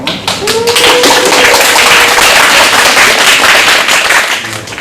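A standing church congregation claps in blessing for a returning young performer, loud and close, a dense rush of hand claps with sharp individual slaps audible in the mix, sustained throughout.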